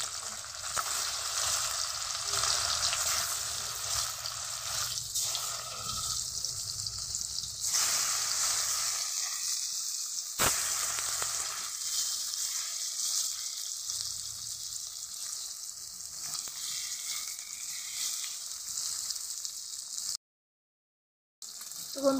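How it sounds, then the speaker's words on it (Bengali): Fish pieces coated in turmeric and salt sizzle steadily in hot oil, a continuous close crackle that swells and fades as they are moved in the pan, with no one talking. "তো এখন মাছগুলোকে ভেজে নেব।"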